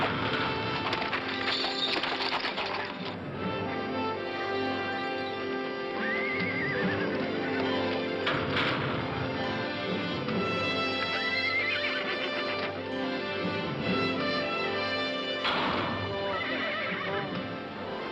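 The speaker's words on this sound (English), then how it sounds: "The horses are entering the starting gate." Racehorses neigh and whinny repeatedly as they enter the starting gate, several loud close calls over steady hoof clip-clop and wooden knocks, with no talking.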